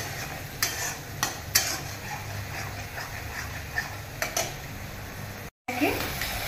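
Vegetables going into a pan for sada shukto and being stirred, with soft scraping and a few sharp clatters of a spoon against the pan over a low sizzle, close by, plus a brief dropout near the end.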